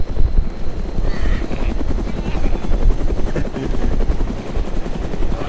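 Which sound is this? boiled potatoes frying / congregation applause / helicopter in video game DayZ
helicopter in video game DayZ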